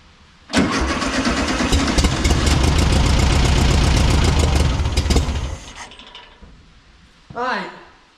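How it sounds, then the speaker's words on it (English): A 1974 VW Beetle engine, abandoned for 30 years, catches on petrol poured into the carb and runs loud and rough for about five seconds before dying, followed by a brief second burst. "now we know it fires"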